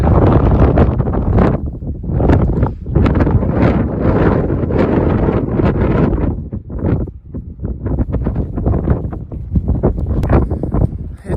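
Strong, steady wind on Virginia's highest mountain top buffets the microphone in loud, continuous gusts, roaring without pause across the whole stretch.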